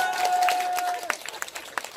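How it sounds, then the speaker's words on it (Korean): An audience at a night pumba street performance claps, first under a held tone and background voices, then breaking into sparse, scattered claps that come and go. "사주실 분들 박수 한번 주세요, 박수!"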